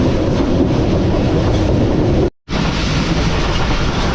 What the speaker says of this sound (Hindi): तो दोस्तों ये ट्रेन हमारी जो है ये लोधरा जंक्शन रेलवे स्टेशन को स्किप कर रही है इस वक्त।